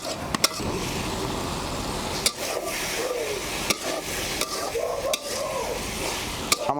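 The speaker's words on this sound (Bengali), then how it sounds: "জল প্রায় শুকিয়ে গেছে এবার আমি আবার গরম জল দিয়ে আবার এটাকে কষাবো" Unripe jackfruit curry with potatoes is stirred and scraped around a pan as it fries down, giving a continuous low sizzle and steady scraping, with sharper clacks of the spoon against the pan every second or so and no talking.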